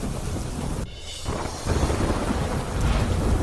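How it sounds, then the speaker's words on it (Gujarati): Heavy rain pours in Didwana district, Rajasthan, as a dense, loud, continuous hiss that briefly thins and then returns stronger. "ડીડવાના જિલ્લામાં પડ્યો મુશળધાર વરસાદ"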